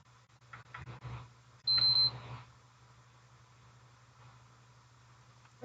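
A Yeti cooler's electronics give a short, clear high beep after a few faint clicks and rustles, over a low steady electrical hum in a quiet room.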